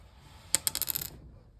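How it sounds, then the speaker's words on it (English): A six-sided die clatters across a tabletop in a quick burst of small bright bounces that settles within about half a second, close and alone with no talking. "So, cut to the die roll."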